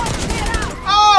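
Rapid gunfire from the Black Ops 6 campaign video game, loud and dense bursts running through the whole moment, mixed with game effects and voices.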